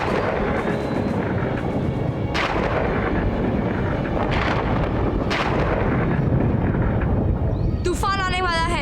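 An approaching storm in a Hindi mythology TV drama: a continuous loud roar of wind with heavy rumbling and a few sharp thunder-like cracks, and a voice rising briefly near the end.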